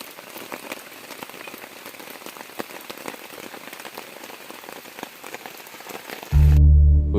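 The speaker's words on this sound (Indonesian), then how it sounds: "Hujan tak kunjung reda setelah kami menunggunya dalam waktu setengah jam lebih." Heavy rain pelts a mountain trail with dense, crackling patter and scattered sharper drops, close and steady, until a low rumbling drone cuts in near the end.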